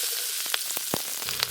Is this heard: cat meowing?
no